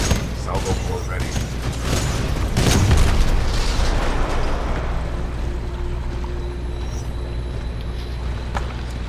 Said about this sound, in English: This is the salvo core system. It just fires fucking rockets everywhere.